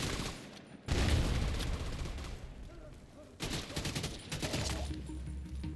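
Heavy-recoil gunfire in The Division 2 comes in two long automatic bursts, loud and close, with a short pause between them, and a voice talks over the shooting.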